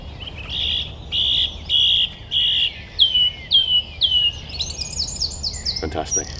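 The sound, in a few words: song thrush singing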